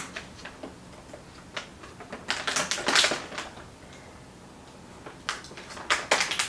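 Protective film slowly peeled off a new RTX 3080 AORUS MASTER graphics card, giving close, faint crackling and ticking bursts in short clusters with quieter gaps between, no talking.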